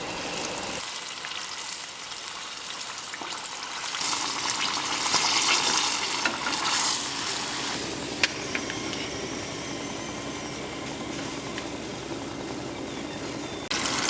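Karaage chicken frying in a small batch of hot oil, a loud steady crackling sizzle that swells after the pieces drop in and keeps going close by without a break.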